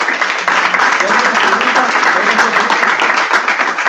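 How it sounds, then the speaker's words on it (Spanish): An audience applauds loudly and continuously, a dense steady wash of many hands clapping throughout. "Un aplauso fuerte."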